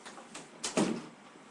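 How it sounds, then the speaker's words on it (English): A door creaks open or shut indoors in one brief, moderately loud swell lasting under half a second, with no talking over it. "I couldn't stand the door creaking."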